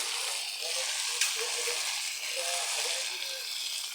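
Broiler chicken curry sizzles steadily in a hot pan as it is stir-fried with spices, a dense continuous hiss with soft scraping from the stirring, close and fairly loud with no talk.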